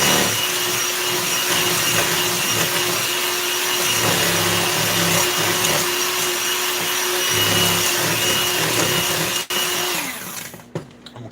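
Electric hand mixer beats eggs with sugar at low-medium speed, a steady whirring hum held for about ten seconds before it cuts off with a few clinks.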